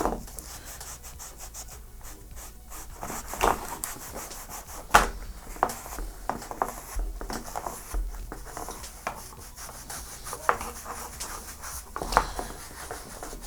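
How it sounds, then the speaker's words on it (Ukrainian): A damp microfiber cloth rubbed over plastic trim to apply polish, giving a steady soft scrubbing swish with occasional sharper strokes, close and alone. "Мікрофіброву серветку рясно зволожуємо і натираємо наш пластик."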